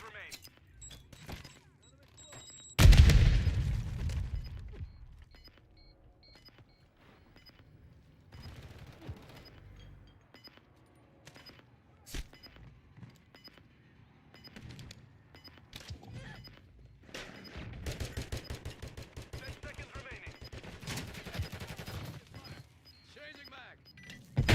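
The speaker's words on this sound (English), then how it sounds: "how many shots I'm putting into these guys" Gunfire in Call of Duty Modern Warfare III comes in a loud burst of bursts near the start. Scattered single shots follow, then a dense rapid volley later on, with talking heard at points throughout.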